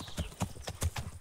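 Horses in the medieval video game Kingdom Come: Deliverance, their hooves clip-clopping in an even trotting rhythm, moderately near, with faint speech in the background.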